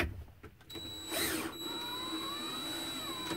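A cordless drill drives screws into wooden pocket holes while fitting a bracket for a door-mounted clothes hanger, spinning up into a close, steady whine that holds to the end.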